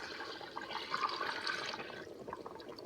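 Curing brine poured over pork loin in a container for Canadian bacon, a soft steady liquid splash and trickle heard up close and alone for a few seconds.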